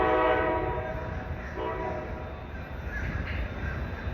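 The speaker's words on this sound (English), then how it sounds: "The train is nearing closer and closer." A Metrorail train departs MIA station, giving a distant continuous rumble with a faint tonal whine, while some crow-like calls or distant voices sound faintly in the background.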